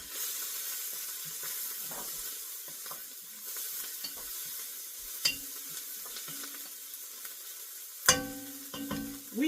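A spoon stirs pork tamale soup in a cooking pot, giving a quiet, steady scraping hiss with a few faint taps and one sharper clink against the pot near the end.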